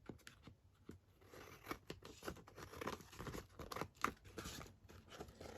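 Scissors cut through paper being made into journal stuffers, with a string of soft, close snips and crisp paper rustles at an uneven pace and no talk.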